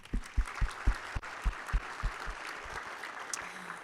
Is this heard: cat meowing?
no